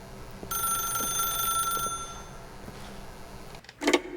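A telephone rings in a video game, a bright electronic trill lasting about a second and a half, followed by a brief clatter as the receiver is picked up.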